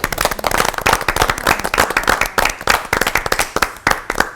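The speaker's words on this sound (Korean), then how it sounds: "잘 사역하시라고 박수 한번." A church congregation claps together during a Korean worship service, a dense, loud burst of many hands slapping in rapid, overlapping rhythm that holds steady for several seconds without talk.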